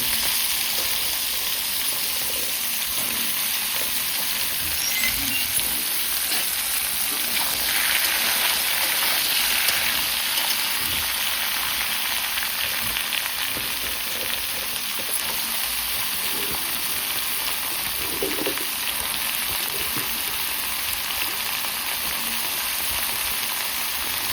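Chopped vegetables and potato fry in oil in a pan, a continuous even sizzle with faint stirring scrapes and no talk.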